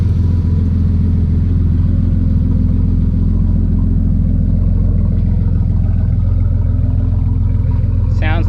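A turbocharged 3800 V6 in a Camaro with a full 3-inch exhaust idles loudly and steadily, a deep, close rumble with a faint turbo whine, and someone talks over it.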